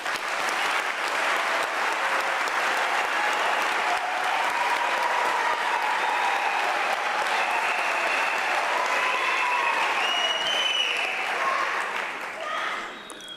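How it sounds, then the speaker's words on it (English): A large audience at a UNISA autumn graduation ceremony applauds the graduates in a long, dense and steady wave of clapping with faint cheers and voices woven in, tapering slightly at the end. "give a warm applause in congratulating our graduates here today"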